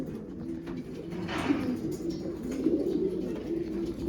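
Pigeons coo softly and steadily at a drinking spot with sponges, a low continuous murmur from several birds close by.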